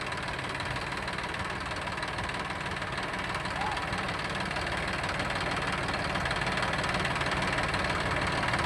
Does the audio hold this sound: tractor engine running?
yes